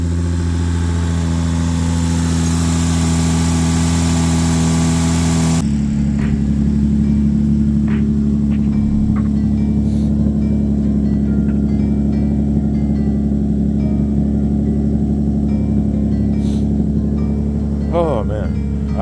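A Lexus IS 250 engine with a ported manifold idles steadily and close for the whole stretch, its tone shifting partway through, with a faint voice speaking briefly underneath.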